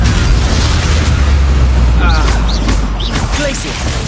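The Bombarda spell explodes in the Hogwarts Legacy video game with a loud, sustained, rumbling boom that fills the mix and masks the quieter game sounds beneath it.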